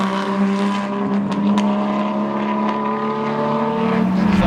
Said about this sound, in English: the turbo picks up and it hits nice and smooth